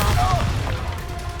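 Confringo blasting spell going off in the Hogwarts Legacy video game, a short loud boom with a rumbling low burst mixed with game effects and a voice.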